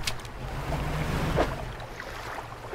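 Fishing boat engine in the game Dredge, a steady low drone running under washing water and wind for the whole stretch, with a few faint splashes and knocks riding on top.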